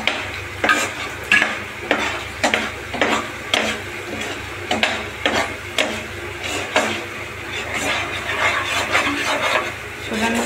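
Apple halwa being stirred in ghee in a pan, a spoon scraping and sloshing through the thick mixture in steady repeated strokes over a soft sizzle, close and alone without talk.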